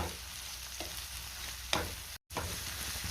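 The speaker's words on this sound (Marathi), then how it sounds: "आता आपल्याला यामध्ये टोमॅटो घालायचा आहे आणि टोमॅटोसुद्धा आपल्याला छान मऊ होईपर्यंत परतून घ्यायचं आहे" Tomato sautéing and being stirred in a pan for dum egg masala, with a soft, constant sizzle and a few scraping strokes of the spoon, one of them sharp. A brief dropout of sound breaks in partway through.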